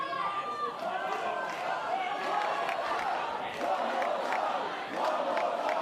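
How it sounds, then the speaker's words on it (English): A wrestling crowd in a pavilion at a live Melbourne event chants and shouts for another chest strike, a dense, continuous roar with rhythmic surges, while a commentator talks over it. "Crowd asking for one more here from Waterman."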